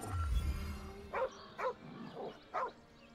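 A dog in the Baldur's Gate 3 video game gives four short, loud barks spaced about half a second apart, each one clear and close after a brief low rumble at the start.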